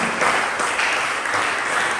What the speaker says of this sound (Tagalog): pwede ba pumalakpak sa Panginoon?